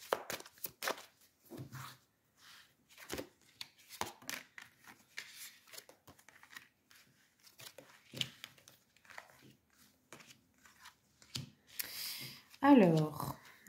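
Lenormand oracle cards are shuffled and laid down in soft, quick papery flicks and crinkles under a quiet speaking voice, ending with a louder rustle.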